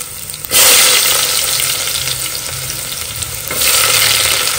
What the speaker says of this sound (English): We're going to put our onions.